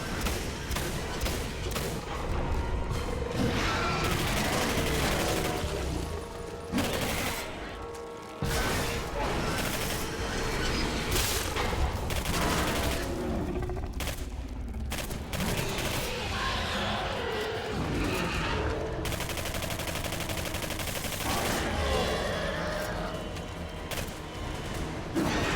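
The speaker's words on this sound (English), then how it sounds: "Firing his laser." Repeated sci-fi laser blasts ring out in quick bursts, loud and chaotic, mixed with crashes and mechanical clatter, with a few brief pauses between volleys.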